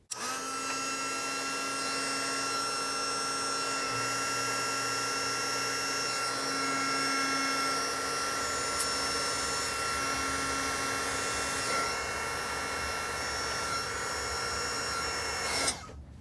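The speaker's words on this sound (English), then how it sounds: "So first I'm going to go ahead and heat shrink over the plugs so that there's no gold connector exposed." A heat gun shrinks heat-shrink tubing over the gold connector plugs of a new ESC for a Tamiya Grasshopper RC car, giving a loud, steady blowing whine that runs unbroken and cuts off abruptly near the end.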